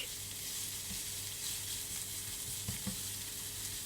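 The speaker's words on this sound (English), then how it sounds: "You put oil and crushed garlic in a frying pan or pot and cook it on medium heat" Crushed garlic frying in oil in a pan over medium heat, a steady soft sizzle with a few faint clicks of stirring, close but quiet and with no voices.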